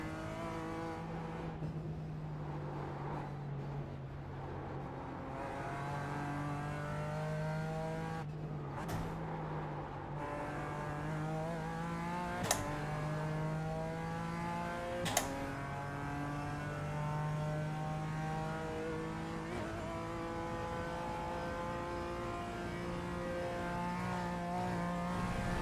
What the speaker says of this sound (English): Busy part of the race with all these GT3s coming through.